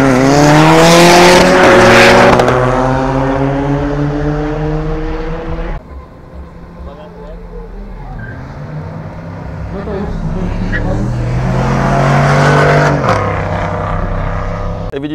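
Modified cars racing on a quarter-mile drag strip at an airfield motor show: loud revving engines rise through the gears, a brief drop, then another close, roaring run of accelerating cars.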